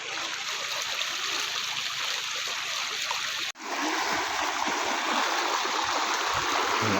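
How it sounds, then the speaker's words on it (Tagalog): A strong river current rushes steadily through a low-water crossing, a broad continuous wash of flowing and splashing water heard close by, with a brief dip midway before it resumes just as loud. "Lakas ng agos."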